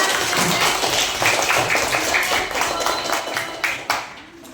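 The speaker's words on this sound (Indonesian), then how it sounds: "Kita beri tepuk tangan yang meriah" A classroom of students claps for a group's presentation, brisk and somewhat uneven hand claps from a small crowd that taper off toward the end.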